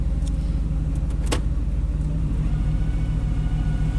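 A Chevrolet K1500 pickup idles in reverse with a broken part, giving a steady low rumble and rhythmic knocking pulse plus a few brief metallic clicks early on, heard close without speech.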